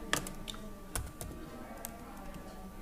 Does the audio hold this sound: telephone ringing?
no